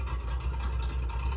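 A 1968 Chevrolet El Camino engine runs steadily through a 3-inch exhaust, a continuous deep rumble that stays even and fairly close for a brief moment with no voices.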